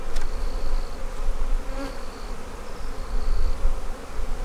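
Honey bees drone loudly and continuously from an open hive in a Demaree bee yard with laying workers and drone brood, a dense close buzz with a few individual bees passing near.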